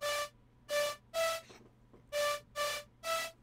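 A dry synth tone plays six short sustained notes in two groups of three, with a brief pause between the groups, clean and without reverb.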